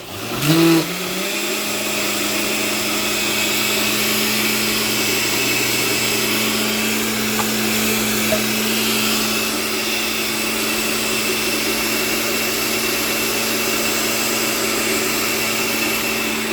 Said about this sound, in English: And then I stick them in this blender